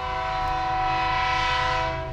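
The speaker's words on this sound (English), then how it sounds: "I'll get this done while the train's going by" A passing train roars steadily and loud close by, with sustained horn-like tonal notes riding over the rumble throughout, next to someone working on RC car parts.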